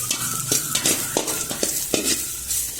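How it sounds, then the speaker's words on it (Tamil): Asafoetida and garlic frying in a pan give a steady sizzle with a run of short stirring scrapes and clicks, close and moderately loud, with no voices. "கிள்ளி வச்சுட்டு இத மாதிரியே இது கூட செவரக வறுத்துக்கங்க. பெருங்காயமும் பொரிஞ்சு வந்துடும்."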